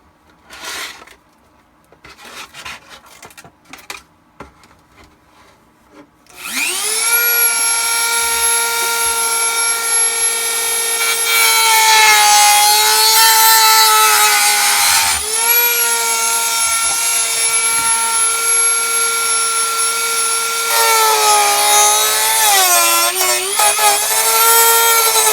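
A power tool cuts through a plastic Shadow Trooper armor piece for a 501st costume build, starting after some light handling clatter, then a loud, steady high whine that runs continuously for nearly twenty seconds with slight pitch shifts.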